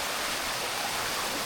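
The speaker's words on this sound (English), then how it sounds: "King Rama V once visited these waterfalls, adding royal significance to their charm." Sai Yok waterfall in Thailand, a loud, unbroken hiss and roar of falling water filling the scene with no other sounds.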